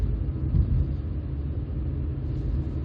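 Inside a 2006 Hyundai Getz 1.4 GSi cruising in fourth gear at about 30, a steady low engine and road rumble hums evenly and fairly quietly, with no voices.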